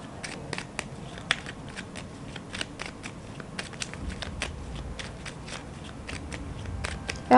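A deck of tarot cards is shuffled steadily at close range, with soft riffling and scattered sharp card clicks continuing throughout without talk.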